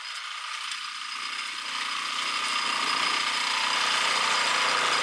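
A walk-behind tractor with a metal-wheel weeding attachment works a garlic bed, producing a loud, continuous grinding clatter of metal wheels and gears over a steady engine drone.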